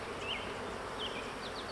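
Honey bees buzz around an open hive during a frame inspection, a soft, steady drone with a few individual bees whining past up close.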